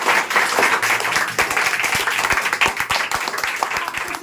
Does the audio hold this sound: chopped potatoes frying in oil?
no